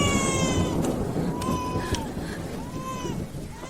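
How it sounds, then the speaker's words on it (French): A wild cat newborn in an animated story meows repeatedly, loud, close high-pitched wails over a busy background of music and commotion, with several drawn-out cries in a row. "Ah, c'est un chat sauvage."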